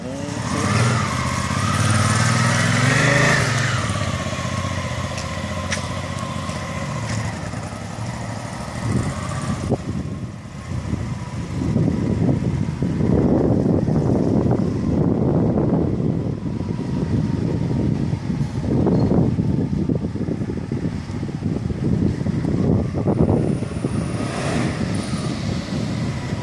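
A Hyosung ST7 700cc motorcycle engine roars loudly and steadily, revving up and down as it rides past nearby inside a residential condominium, with no talking.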